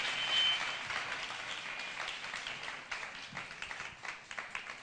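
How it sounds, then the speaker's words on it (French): Audience applause at the launch of a Star Karaoké singing show, a fairly quiet crowd clapping steadily and then thinning into scattered, distinct claps toward the end. "On peut les applaudir encore"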